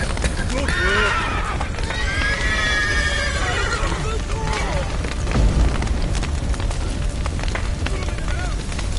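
Horses neighing and whinnying repeatedly in The Witcher video game, loud and near amid clattering hooves, rumbling fire and a collapsing roof, with shouting voices over the chaos.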